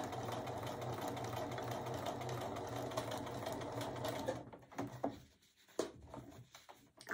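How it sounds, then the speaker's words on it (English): Sewing machine stitching fabric with a steady, fast mechanical whir for about four seconds, then stopping and restarting in short bursts, close and alone. "then start sewing"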